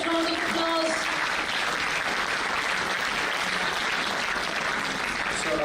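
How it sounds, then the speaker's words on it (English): Continuous applause from a large graduation ceremony audience at an engineering institute, a dense, even roar of many hands clapping throughout, with faint voices underneath. "Big round of applause."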